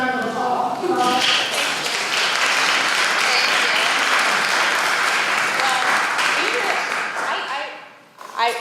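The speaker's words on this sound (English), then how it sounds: "can we give them a nice round of applause?" Sustained audience applause from a crowd at an economic development event in Hamilton, honoring SECA's officers; dense steady clapping with some voices mixed in, fading near the end.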